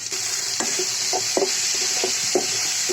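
Chopped garlic and green chilies fry in a pan with a constant bright sizzle. Sharp stirring knocks and scrapes come several times at an irregular rhythm, close and clear, and no one talks.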